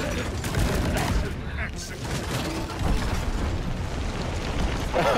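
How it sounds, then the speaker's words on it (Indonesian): A grenade thrown in the video game Deep Rock Galactic sets off a dense, rumbling burst of blasts and gunfire that carries on for several seconds, heavy throughout, with voices talking over it. "Aku lempar granat."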